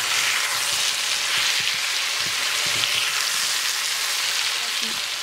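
Tomato, aubergine and chili peppers fry in a hot pan while being stirred, giving a loud, steady sizzle with soft clicks and scrapes from the stirring underneath.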